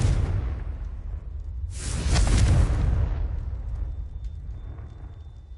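A Confringo blasting spell from Hogwarts Legacy erupts in a loud whooshing burst with a deep boom, then a rumbling tail, set over constant low game ambience.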